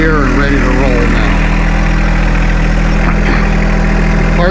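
A John Deere 2025R compact tractor engine idles steadily, a loud, even low rumble with constant vibration throughout, while someone talks over it.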